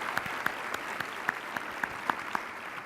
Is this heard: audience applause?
yes